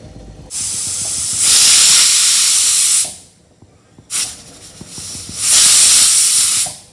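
Two long, loud bursts of hissing steam from a pressure cooker whistle, each lasting a couple of seconds with a short pause between.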